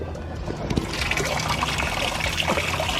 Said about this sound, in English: He's pouring out the water.